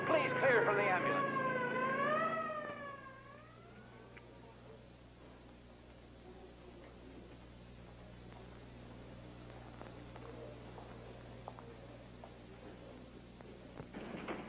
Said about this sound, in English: You people on the infield, please clear for the ambulance.